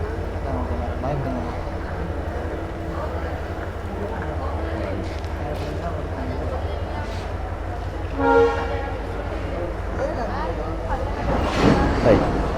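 A Yal Devi passenger train passing, a steady rumble of rolling cars with a couple of brief horn-like bursts toward the end, heard under continuous talking.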